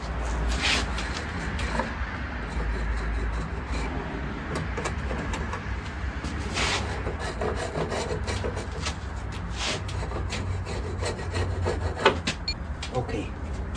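A hand saw cuts an off-cut from the end of a wooden workbench fitted with a new front vise, giving a steady, continuous rasping stroke close by with a few louder scrapes, and no talking.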